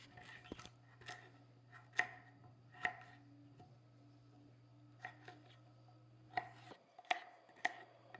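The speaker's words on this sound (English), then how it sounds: "We'll do some shaved carrots for him. Cut that up." Shaved carrots being cut up as food for a rhino, with sparse crisp chopping and snipping strokes coming at irregular moments over a low steady hum, close but quiet.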